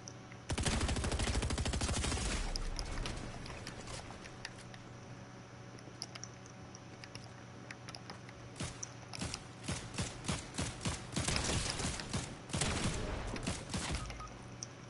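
Rapid bursts of gunfire from a Fortnite match, dense clusters of shots at the start and again later, loud and close over ongoing game ambience with no talking.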